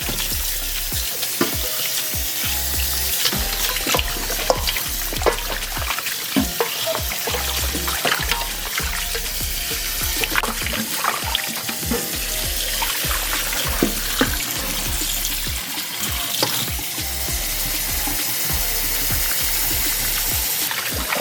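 Pig feet being washed under running water for souse, a steady broadband rush of water with scattered splashes and clatter throughout, close and continuous with no talking.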